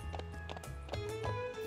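Hooves clip-clop from a horse in a horse ranching video game, a quick run of light beats layered over steady game music, without speech.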